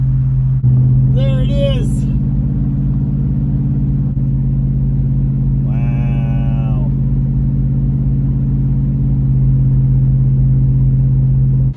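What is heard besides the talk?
1969 Dodge Charger big-block engine climbing a mountain road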